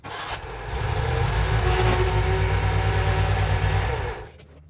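Exmark Lazer Z zero-turn mower engine running steadily as the machine drives its front casters up onto ramps, a close, loud low rumble for about four seconds that cuts off abruptly near the end.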